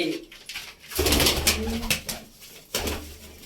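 Red pigeons in a keeper's loft coo and rustle close by, with a low throaty cooing under bursts of wing flutter and scuffling, all against a noisy, busy background.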